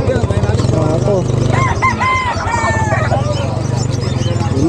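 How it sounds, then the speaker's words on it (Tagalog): Chickens clucking and a rooster crowing amid a busy Philippine livestock market selling turkeys and ducks, with people talking nearby and steady background chatter throughout. "May mga manok, dami manok"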